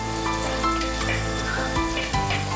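Onions and fenugreek sizzle in coconut oil in a pan, a steady close crackling fry with occasional stirring scrapes and no talking.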